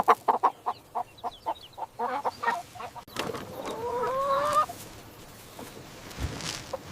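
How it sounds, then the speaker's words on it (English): A rooster clucks in a quick run of short, rhythmic calls, then gives a longer, louder drawn-out cry, heard close and clear with no talking. "This is a rooster."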